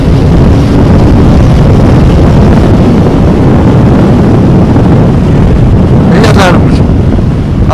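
A Triumph Thruxton R motorcycle accelerates at full throttle in fourth gear, a loud, continuous engine roar buried under heavy wind buffeting on the microphone, with a brief higher sweep near the end.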